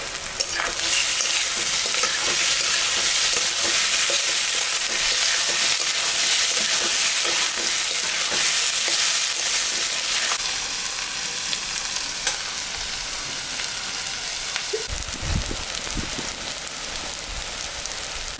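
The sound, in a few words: chopped tomato frying in pan for egg tadka with banana flower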